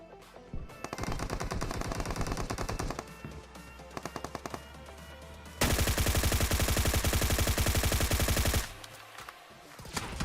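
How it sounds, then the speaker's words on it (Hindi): Automatic gunfire in the mobile game PUBG Mobile, rapid bursts of shots that stop and restart, building to a long, loud, sustained volley near the end, with no talking. "क्योंकि भाई बहुत देर से फायरिंग चल रही है वहां पे"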